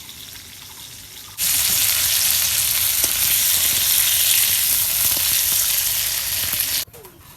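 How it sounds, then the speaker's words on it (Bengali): Pangas fish frying in hot oil, a loud, dense sizzle that starts abruptly, holds steady for several seconds close by, then cuts off sharply, with no talking. "তাহলে মাছ ভাজা হয়েছে"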